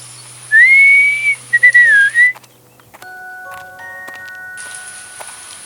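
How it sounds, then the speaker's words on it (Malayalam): A clear, loud melodic whistle rises and wavers for a couple of seconds, then fades into soft, sustained chime-like tones. "ഒരു വിസിൽ ശബ്ദവും കേട്ടു"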